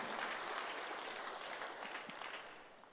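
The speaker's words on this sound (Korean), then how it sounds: "이럴 때 박수 한번 치셔도 좋습니다." Church audience applauding during a guest creation-science lecture at a Korean church, a dense steady wash of many hands clapping at once, fading slightly toward the end.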